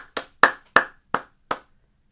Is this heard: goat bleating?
no